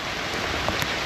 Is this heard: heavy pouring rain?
yes